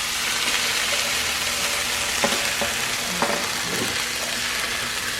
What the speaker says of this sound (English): So we're just going to take it and put it in this casserole dish.